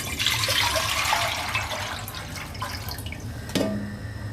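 Water pours into a cooking pan while making chicken soup, a splashing, trickling stream that starts full and thins out, followed by a brief clatter near the end.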